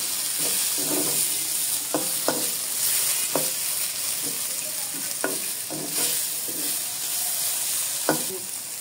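Garlic, chili and onion sizzle steadily in a pan while being fried for a Bangladeshi dried-fish vorta, with repeated sharp scrapes and clinks of a spatula stirring over the constant hiss.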